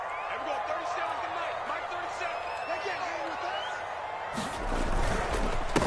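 Home crowd noise in an American football video game, a continuous stadium roar with scattered voices that swells louder toward the end, with talk running over it.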